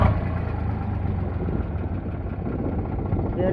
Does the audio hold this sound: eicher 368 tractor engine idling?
yes